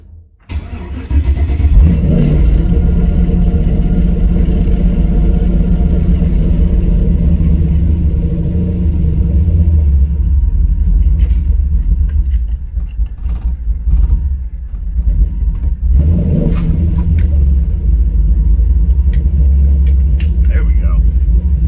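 A van's engine, the vehicle being readied for LS Fest, cranks and catches, stumbles briefly, then settles into a loud, rumbling idle close by, with a voice talking over it.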